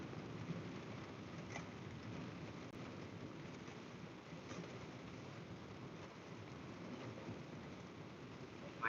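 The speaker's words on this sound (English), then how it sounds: "I love the rain." Steady rain hisses and patters around a car creeping through slow traffic, a constant close wash of sound with a few faint knocks and no voices.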